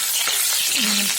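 Ghugni fries in hot oil in a wok, giving a dense, close sizzling crackle that holds steady for a brief moment.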